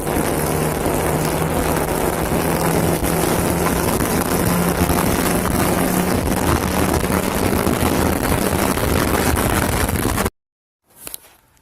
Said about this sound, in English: while driving in the Del Sol